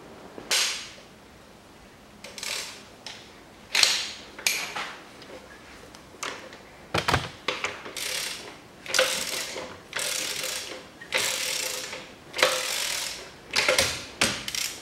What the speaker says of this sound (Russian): Проворачиваю коленвал.